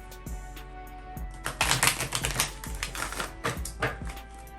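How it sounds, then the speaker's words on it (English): A deck of tarot cards is shuffled by hand, a quick run of crisp riffling clicks and flutters, fairly close and alone with no talk. "let me go ahead and shuffle my cards"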